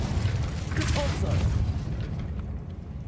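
A Repulso spell cast in the Hogwarts Legacy video game lands as a loud, rumbling magical blast with a brief burst of crackle, then tails off over about three seconds.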